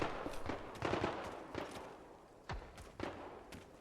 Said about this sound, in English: Oh, already gunshots.